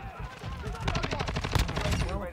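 Rapid automatic gunfire in Modern Warfare 2, a fast, even burst of close shots lasting about two seconds, with faint game sounds underneath.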